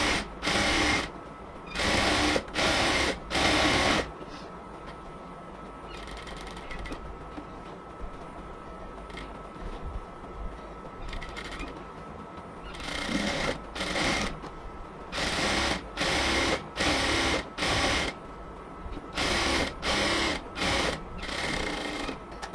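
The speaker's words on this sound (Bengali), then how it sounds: "এবার কাপড়টাকে এদিক থেকে চাপ দিয়ে ধরে সেলাই করব" Close sewing machine stitching the side seam of a cotton dress, running in rapid bursts at the start, pausing for several quiet seconds, then returning in a long series of short, even runs.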